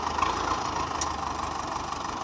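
A 1982 Belarus tractor engine idles with a steady, even rumble. It sounds close and constant and runs alone, with no talk.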